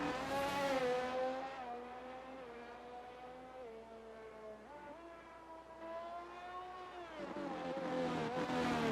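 A racing car from a video game circuits a completely slick, rain-soaked track, its engine holding a steady high whine that dips and climbs through gear changes, loud and alone with no voices.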